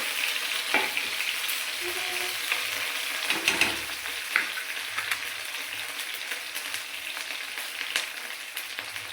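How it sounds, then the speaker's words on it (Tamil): Ingredients sautéing in a pan for a village-style radish chutney, a continuous close sizzle with occasional spatula stirs and scrapes, and a brief watery splash partway through. "ஒவ்வொன்றா சேர்த்து நல்லா வதக்கிக்கலாம்."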